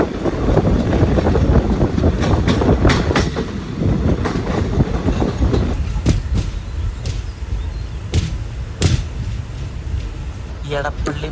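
Guruvayur Passenger locomotive pulling away on the rails, loud close rumble and clattering wheels with wind buffeting the microphone, rhythmic clicks emerging as the train gathers speed; someone speaks over it at times.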